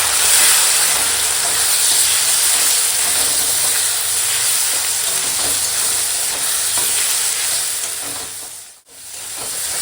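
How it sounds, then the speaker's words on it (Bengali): Ground spices with turmeric, dry chilli powder and salt sautéing in a hot pan for a bitter-gourd shukto dish, a steady loud sizzle and hiss with stirring scrapes throughout, briefly cut near the end. "এখন মশলাটা কষাবো"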